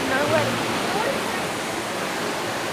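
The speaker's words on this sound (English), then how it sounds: "What's your thoughts on the waterfall? Muddy, loud" A muddy, swollen waterfall in a fern rainforest after heavy rain roars as a continuous broadband rush, loud and steady throughout, with a voice talking over it.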